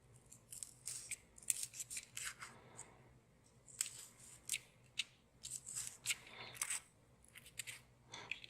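Scissors snip repeatedly around drawn lines on a piece for a basic scatter craft, close and crisp, with irregular cuts and paper rustles, no talking.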